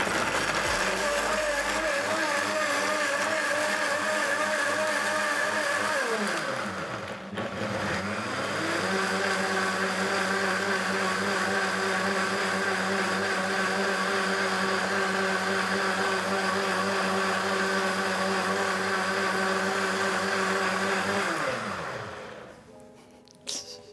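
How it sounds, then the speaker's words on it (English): A countertop blender whirs steadily while blending a chocolate smoothie, a loud continuous motor drone with a brief dip as the speed shifts, then spinning down at the end. "you switch on the blender"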